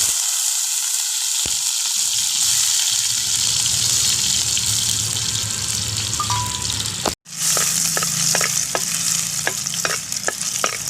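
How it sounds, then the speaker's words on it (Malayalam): Ginger and garlic fry in coconut oil with mustard seeds for an egg roast, a steady loud sizzle running throughout, a brief cut near the middle, then clinking stirring taps over the continuing hiss. "ഇഞ്ചി വെളുത്തുള്ളി ഇടുകയാണ്"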